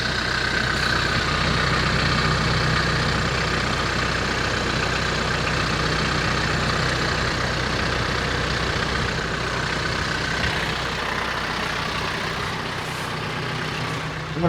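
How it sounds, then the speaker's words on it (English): An old crane truck's engine, on a tractor setup with an alternator charging a dead battery, drones steadily and loudly with a low, even rumble that eases slightly toward the end. "We should hear the tractor go under load a little bit when this alternator kicks in."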